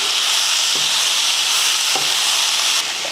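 Tomato with mint, coriander and curry leaves sautés for chutney in a pan, giving a loud, steady sizzle and hiss throughout, with a few faint stirring knocks and no voices.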